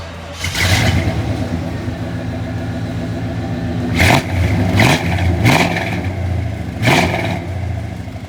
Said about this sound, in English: We're going to start it up and see how it sounds.